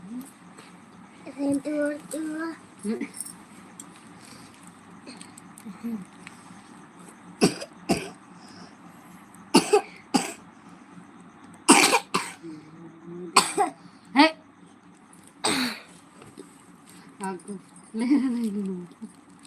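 Someone coughs repeatedly in short, sharp bursts, some in quick pairs, with occasional speech in between.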